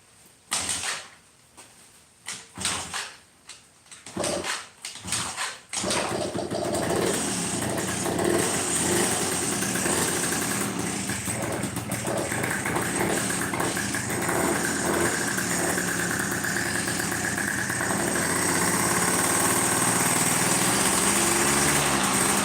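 A 1992 Yamaha Jog moped engine fires up after a few faint handling clunks, then runs steadily at a buzzy, high-pitched idle, close and loud, holding on without pause.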